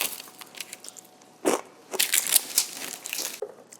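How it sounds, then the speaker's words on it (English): Crunchy bites of green goddess chicken salad, close and crisp, with a brief crunch followed by a burst of chewing crackles. "You heard that crunch?"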